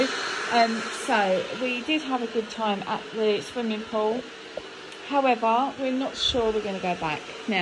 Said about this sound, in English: Excuse that noise, it's the kettle boiling.